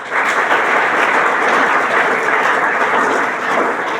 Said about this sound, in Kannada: ಒಂದು ಸರಿ ಜೋರಾಗಿ ಚಪ್ಪಾಳೆ ತಟ್ಟೆ ಆಕೆಗೆ.